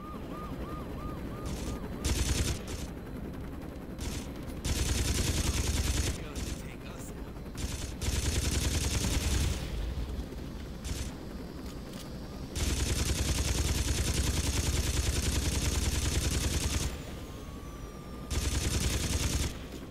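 Bursts of Saints Row 2 video game gunfire, loud and sustained, in stretches of two to four seconds separated by short lulls, with voices in between.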